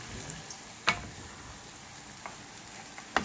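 Ackee and saltfish being stirred in a pan, a faint low sizzle with a few sharp spoon clinks against the pan, quiet and close.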